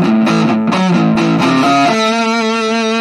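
An electric guitar plays a heavily distorted riff of short chugged notes, then rings out into a sustained chord through a small mini amp set to 5W, loud and close with no talking.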